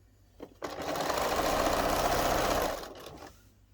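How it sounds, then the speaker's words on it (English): A sewing machine stitches an apron to its facing in one steady, close run of about two seconds, starting and stopping abruptly with a few quieter clicks around it. "Line up to the 1 centimeter line and sew it together."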